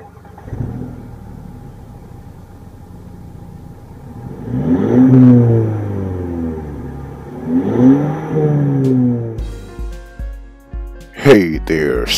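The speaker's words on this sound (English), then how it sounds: "I guess I'm going to turn my engine on and give me a few revs." A 2014 Mercedes CLA engine turns over and then revs loudly several times in rising surges, close by, ending with sharp mechanical clatter.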